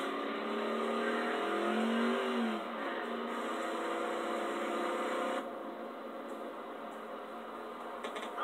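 A car engine in the video game GTA 4 revs with a rising and falling whine early on, then settles into a steady droning hum at moderate volume.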